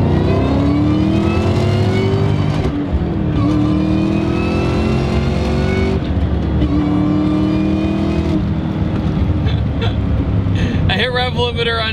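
Stock 2003 Ford Mustang Cobra Terminator engine revving hard through the gears, loud and close, with repeated rising whines as it hits the limiter in second, shifts, and climbs again, with a voice talking over it.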